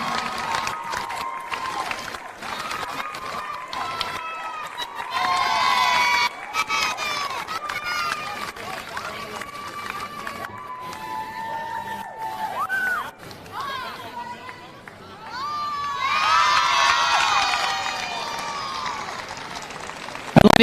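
A crowd at an NTFL women's representative Australian football match applauds and cheers, with voices and shouts mixed in, rising in two louder bursts with quieter chatter between them.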